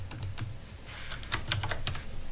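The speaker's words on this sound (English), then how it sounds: "And we can type something like this." Rapid clicking keystrokes on a computer keyboard, close and clear, in short irregular bursts with no talking.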